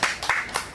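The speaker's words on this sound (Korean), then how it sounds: "화이팅 박수로 마치겠습니다" A short burst of cheering applause closing a supporters' gathering at a politician's hunger-strike site, a brief flurry of clapping under a second long.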